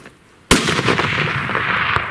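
During an early-season mule deer hunt on the Kaibab, a rifle is fired at a deer about 375 yards away. After a quiet moment comes a single sharp, loud crack, followed by a rushing, rumbling tail of noise and a faint click.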